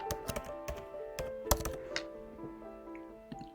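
Quick keystrokes on a MacBook keyboard while entering a password, a short burst of soft close clicks and taps at low volume.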